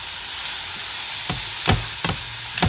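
Scrambled eggs seasoned with salt and pepper fry in a pan under a steady, close sizzle, while a utensil scrapes and stirs them in several distinct strokes.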